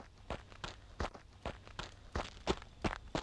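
Video game character's footsteps on gravery-sounding ground, a steady walking rhythm of about nine distinct crunchy steps, close and clear with no talking.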